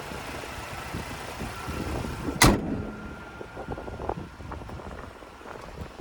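Steady wind rumbles and buffets against the microphone outdoors beside a 2025 Toyota Tacoma SR, with a brief sharp knock partway through and a faint low hum underneath.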